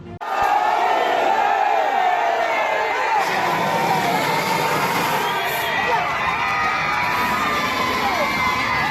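A large crowd shouts and chants devotional slogans together at a Khandoba festival cart-pulling, loud and continuous, voices overlapping in a dense outdoor roar.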